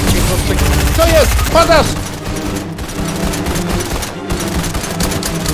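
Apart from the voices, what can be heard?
gunfire from shooting in the video game Fortnite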